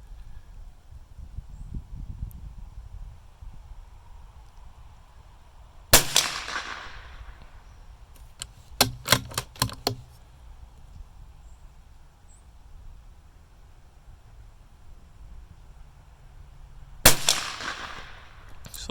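A rifle topped with a Shepherd 4-16x44 FFP scope is fired unshouldered during zeroing, giving two loud, sharp shots about eleven seconds apart with quick mechanical clicks in between against a quiet outdoor background.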